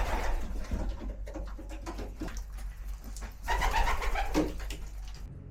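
Pigeons cooing close by outdoors in Canada, with soft flutters and wing flaps as some take off, over a steady background rumble.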